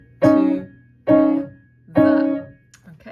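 Three separate piano phrases from the last bit of the beginner piece "Right Hand, Left Hand", played with both hands together, each one struck clearly and then left to ring and fade before the next, close and fairly loud.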